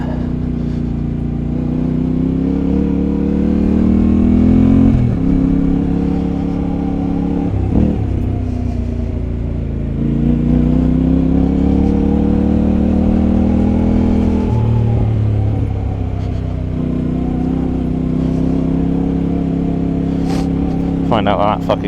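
Yamaha Tenere 700 motorcycle churning through soft, deep sand, its engine revving loudly in repeated surges and dips as the rear wheel spins, heard close-up with a rider's voice over it.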